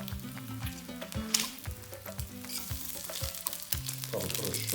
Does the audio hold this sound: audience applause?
no